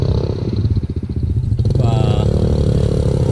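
A motorcycle rides over a rough, difficult road at night around the Sre Chrey community in Mondulkiri. Its close engine chugs in quick pulses with rattling clatter, then settles into a steadier drone.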